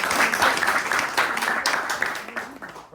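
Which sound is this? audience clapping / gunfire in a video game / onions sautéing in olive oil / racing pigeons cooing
audience clapping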